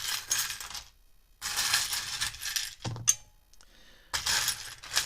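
Small divination charms scooped up and let fall in clattering, jingling bursts, a few separate handfuls with short pauses between, close and fairly quiet, with no talk.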